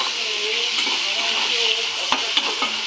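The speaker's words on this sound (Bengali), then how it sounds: "শুকনো লঙ্কা তেজপাতা এসব দিয়ে ফোড়ন" Dried red chillies and bay leaves fry in hot oil as a tempering for dal. A steady, loud sizzle and hiss runs throughout, broken by a couple of sharp clicks from a stirring spoon.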